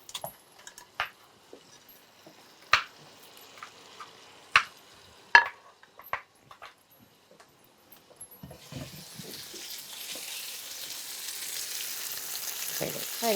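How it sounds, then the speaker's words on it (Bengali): Tangra fish fry in a small amount of oil, a soft sizzle that swells into a steady fry after a run of sharp clinks and utensil knocks near the pan. "এবারে বোধহয় মাছ ভাজাটা খানিকটা হয়েই গেছে।"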